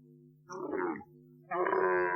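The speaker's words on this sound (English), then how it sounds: "That was a sound of a real camel" A real camel groaning twice, two short low guttural bellows separated by a brief pause, close and alone.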